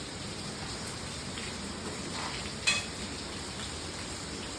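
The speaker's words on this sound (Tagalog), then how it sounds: "Kinagabihan nga ay talagang bumuhos na ng malakas ng ulan." Heavy rain falls at night in Bolinao, a dense, steady hiss of downpour with one brief sharper splash or knock partway through.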